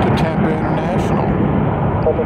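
A Boeing 747 on the runway at SFO gives off a continuous broad, rumbling roar that holds steady throughout.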